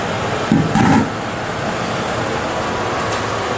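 Kitchen blender whirring as it mixes ingredients with water, a continuous dense rushing noise at steady loudness with a brief louder burst near the start.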